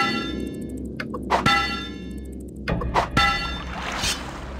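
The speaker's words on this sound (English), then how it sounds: "Aye, the bell belongs here." A bell struck twice in King's Quest 8, each ring a bright metallic clang with a long shimmering decay, loud and close over a low ambient background.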